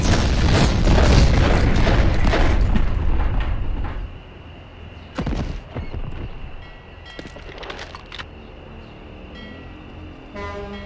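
Gunfire and explosions in the PS1 game Medal of Honor, with a loud dense barrage of booming shots at first, then scattered sharp bursts and blasts over a steady background hum.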